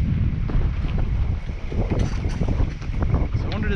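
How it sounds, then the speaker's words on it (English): Strong wind buffeting the microphone outdoors on a street during student move-out, a loud continuous low rumble with gusty surges and faint background noise throughout. "Oh, it's windy."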